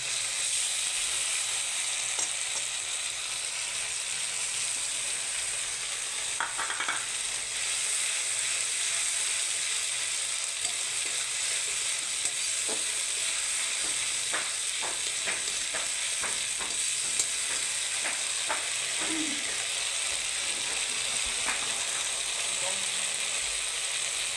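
Spice paste for a Bengali fish curry sizzling in hot oil makes a dense, continuous hiss with faint clicking and crackling through it, close and even in level from start to end.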